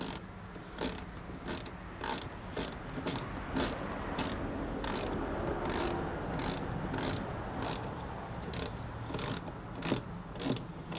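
A ratchet with an extension tightens a battery terminal on a 2010 Kia Soul, a steady run of close, crisp clicks repeating evenly for the whole stretch with no talking.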